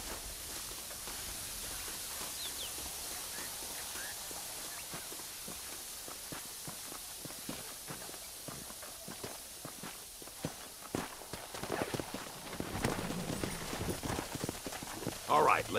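Horses in the video game Red Dead Redemption clip-clop at a walk near the border, steady hoof falls under a continuous ambient hiss that grow louder and more distinct toward the end.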